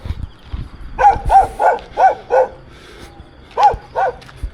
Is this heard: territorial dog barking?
yes